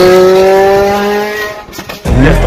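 A Ferrari race car engine screams at high pitch, its tone holding steady and then dropping away, followed by a lower rumble as it shifts.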